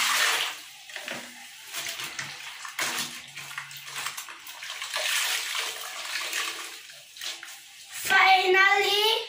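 Clothes are scrubbed and rinsed by hand in a basin of water, giving steady splashing and sloshing throughout, with a louder burst of swirling water near the end; a voice is faintly heard.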